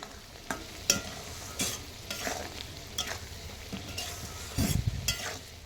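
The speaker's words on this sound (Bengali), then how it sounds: "থেতো করা রসুনগুলো এবার খুব ভালো করে এর সঙ্গে মিশিয়ে নিচ্ছি" Crushed garlic is stirred into a homemade garlic pickle in a pan, with a soft sizzle under intermittent scraping strokes and a few louder clacks, close and fairly quiet.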